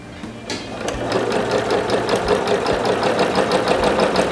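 A sewing machine runs steadily through fabric in a straight seam, its rapid, even stitching rhythm close and continuous after a brief quiet start.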